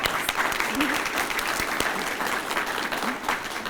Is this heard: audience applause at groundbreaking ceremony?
yes